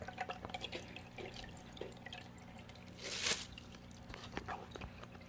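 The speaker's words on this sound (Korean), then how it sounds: "얘도 지금 물이 빠지고 있고요." Water draining and dripping from a cut Philodendron cutting or its pot: soft, irregular drips at low level through the clip, with a brief louder splash of trickling water near the middle.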